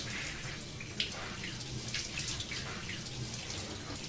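Steady rush of shower water running in a bathroom, a constant hiss with scattered splashes and drips, fairly quiet and alone without talk.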